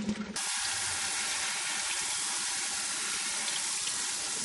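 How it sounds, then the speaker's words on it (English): Cold tap water running steadily over drained almonds and noodles in a sink, a continuous close, hissing stream after a brief start, with no talking. "we're going to drain them and rinse them really well in cold water"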